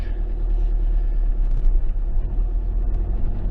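A Ford Transit Custom 2.2 diesel van idling from a cold start, giving a steady low engine rumble that holds even throughout, heard close with no talk.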